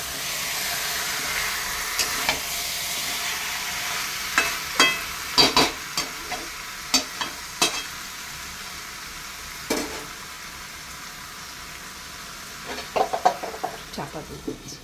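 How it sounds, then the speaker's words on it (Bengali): Meat browning in a pan for a papaya, potato and meat curry sizzles with a steady hiss, and a spatula scrapes and knocks against the pan every second or so. A burst of quick clacks comes near the end. "মাংসটা আমি কষিয়ে নিচ্ছি।"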